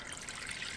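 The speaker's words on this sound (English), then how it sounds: "Add in our warm water." Warm water poured into a bread mixture, a soft steady trickling stream heard close and faint for a brief moment.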